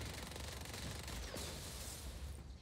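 Sustained rapid gunfire in the video game Just Cause 4, aimed at a generator in a snowy mission, a steady dense burst rattling on without pause for nearly three seconds, fairly quiet overall.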